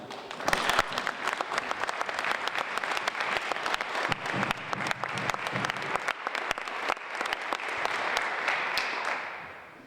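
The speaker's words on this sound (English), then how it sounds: "Let's give them a round of applause." A crowd gives a sustained round of applause for a color guard at a Purple Heart Highway dedication ceremony, dense steady clapping that holds for several seconds before tapering off near the end.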